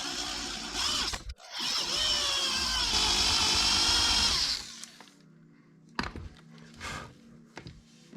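A power drill bores deeper into a homemade GoPro bicycle mount, whining loudly and steadily for about three seconds before stopping, followed by quieter handling clicks and knocks.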